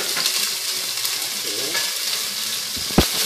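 Chili peppers frying in a pan give a steady, close, broadband sizzle that holds evenly throughout, with one sharp knock of a utensil near the end.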